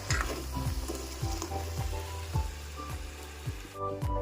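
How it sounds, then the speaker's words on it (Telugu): Crab curry with ginger-garlic paste simmers in a pan, giving a steady close bubbling sizzle with regular soft pops recurring roughly every half second. "కాసేపు పీతల కర్రీని అయితే ఉడకనిద్దాము బాగా ఉడికేంత వరకు"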